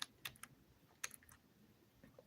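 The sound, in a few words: typing on a computer keyboard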